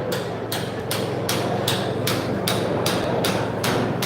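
Chisel struck by a hammer against a metal weld seam: about ten sharp, evenly spaced ringing blows, close and loud, over a steady grinding-like background noise.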